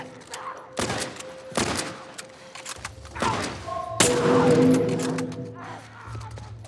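Gunshots in The Last of Us Part I, several sharp, loud reports spaced a second or so apart, then a heavier burst with mechanical rumble, game voices faintly in the background.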